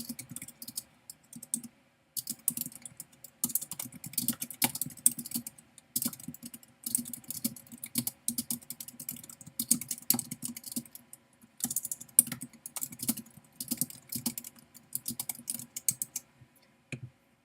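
Quiz answers are typed on a computer keyboard in quick, irregular runs of close key clicks with brief pauses between bursts. No voices are heard.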